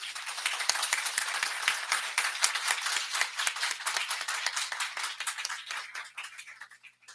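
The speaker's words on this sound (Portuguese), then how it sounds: "Palmas para o doutor." Audience applause for a doctor after a Pink October breast-cancer awareness lecture, a crisp burst of many hands clapping that stays strong and then gradually thins and fades toward the end.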